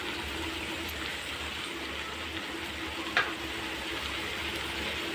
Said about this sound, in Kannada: ನೋಡಿ, ಫ್ರೈ ಆಗ್ತೈತೆ.